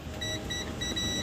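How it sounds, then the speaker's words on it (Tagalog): A continuity tester buzzer sounds on a shorted line inside a Sakura AV-3500 amplifier, giving a steady high-pitched electronic beep in short, closely repeated pulses over a faint background hiss. "Try muna natin i-buzzer. So pag shorted,"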